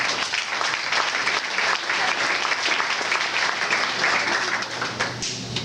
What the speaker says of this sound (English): so round of applause for all you